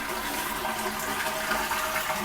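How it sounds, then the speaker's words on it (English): A toilet flushes and its tank drains in a steady, loud rush of water that runs unbroken throughout, close by with no voices. "You want to flush and drain the tank."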